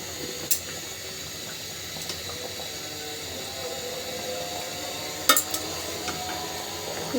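Spicy egg curry made with fried eggs and cumin is stirred in a pan at home: quiet spoon scraping and soft simmering, with a few sharp clinks against the pan.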